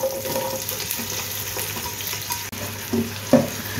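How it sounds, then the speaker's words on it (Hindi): Chopped onion hits lightly heated oil in a pressure cooker with a steady sizzle and crackle, a few louder clinks and pops near the end, and no talking. "ऑयल हल्का सा गर्म हो गया, प्याज ऐड करूंगी इसके अंदर।"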